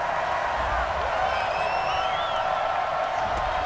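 Steady roar of a football stadium crowd in XFL 2K20 reacting to a penalty flag, a dense sustained wash of voices with whistles and jeers, unbroken and fairly loud.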